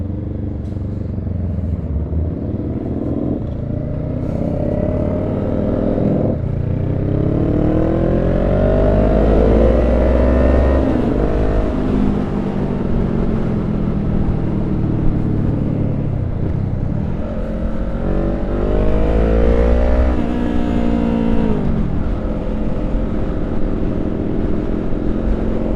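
A 2021 Honda Rebel 500 S motorcycle engine drones steadily while riding, rising and falling in pitch through gear changes and throttle, loud and continuous with wind noise and no talking.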